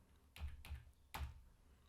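Arrow keys on a computer keyboard are pressed three times, quiet close clicks with the first two in quick succession and a third after a short pause.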